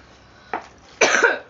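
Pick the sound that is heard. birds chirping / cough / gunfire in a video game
cough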